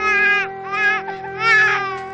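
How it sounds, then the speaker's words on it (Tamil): Baby crying in repeated wailing bursts, close and loud, with a steady tonal background hum underneath and no talk. "குழந்தை அழுகுது, போய் பாரு."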